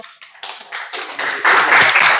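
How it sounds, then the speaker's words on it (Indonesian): Classmates applaud a student group in a physics lesson on Bernoulli's principle, with scattered claps that quickly build into brief, fairly close clapping from a small room of students. "kasih tepuk tangan untuk kelompok 1"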